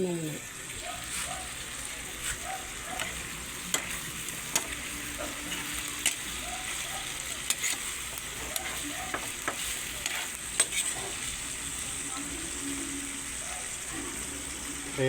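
Pork caldereta being stirred as it fries in a pan, a soft continuous sizzle with scattered scraping clicks of the utensil against the pan.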